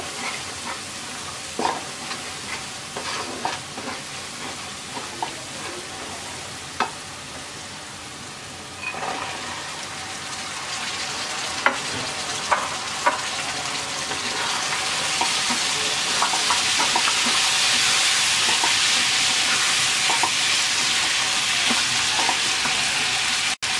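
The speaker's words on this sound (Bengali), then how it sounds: "এবার কাঁঠালের বিচি দিয়ে 5 মিনিট কষিয়ে নেব।" Jackfruit seeds sauté in spice paste in a pan: continuous sizzling and frying with occasional scrapes and stirring knocks, the sizzle growing louder and brighter toward the end.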